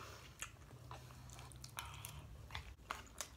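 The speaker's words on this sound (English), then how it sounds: "I can't stop eating mac and cheese. I need to go back to the fries or something." Someone chewing mac and cheese and fries close to the microphone, soft wet bites and mushy smacks recurring irregularly at low volume, with no talking.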